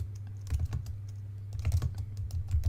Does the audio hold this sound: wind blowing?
no